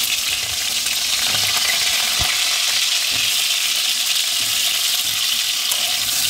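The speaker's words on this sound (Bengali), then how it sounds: "এবার আলুটা আমি ভালোভাবে ভেজে নেব।" Diced potatoes fry in hot oil with a steady, dense sizzle that holds at an even level throughout, broken by an occasional faint clink.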